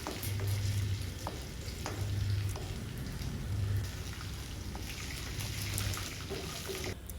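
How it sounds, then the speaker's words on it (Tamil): Curry leaves sautéing in hot oil for kathirikai kuzhambu, a steady soft sizzle and crackle close by, with occasional pops and light stirring, no talking. "ஃபுல்லாக கருவேப்பிலை முழுகிற வரைக்கும் அந்த எண்ணெயில் ஃபுல்லாக வதக்கிடுவோம்."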